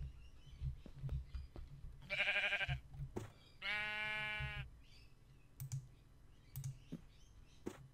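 A Minecraft sheep bleats twice in quick succession, nasal and wavering, amid faint clicking game sounds and soft background noise, with no speech over it.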